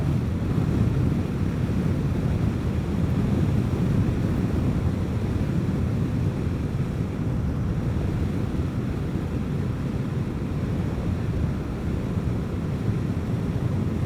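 Heavy wind buffeting a rider on a Vespa GTS 300 Super Sport scooter, a loud continuous low roar with rumbling gusts and no pauses.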